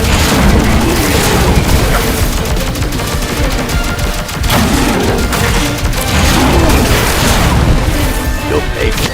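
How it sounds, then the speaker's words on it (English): Dense, continuous barrage of overloaded spread-shot fire in Contra: Operation Galuga, ricocheting bullets and booming impacts blending into a loud, relentless roar of gunfire and explosions. "Overloading the spread shot creates a barrage of ricocheting bullets."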